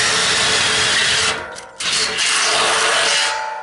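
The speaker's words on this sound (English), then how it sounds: "Let me drill this hole and I'll explain that." A drill grinds through the metal wall of a steel drum, a loud continuous rasping whine that briefly cuts out and restarts before carrying on steadily, close up.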